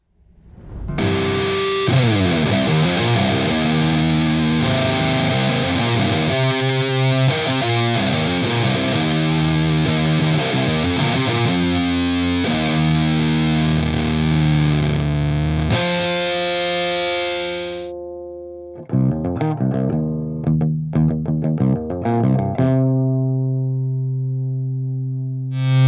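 Electric guitar through a Medici fuzz pedal, played loud and saturated with sustained distorted chords and notes, then a brief pause and a few choppy strums before more fuzzed chords ring out.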